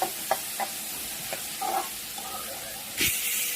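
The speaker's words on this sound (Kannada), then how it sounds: "ಸೊ ನಾನಿಲ್ಲಿ ಫ್ರೈ ಮಾಡ್ಕೊಳ್ಳಿಕ್ಕೆ ಹಾಕ್ಕೊತಾ ಇದ್ದೀನಿ" Cashews dropped into hot oil for frying, a soft steady sizzle with a few light stirring clicks and one brief louder splash near the end, close and quiet.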